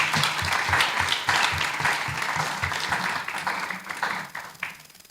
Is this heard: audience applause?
yes